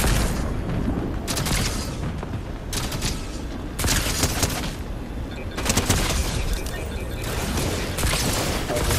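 Video game gunfire: loud, close bursts of rapid shots in several clusters, with brief lulls between volleys.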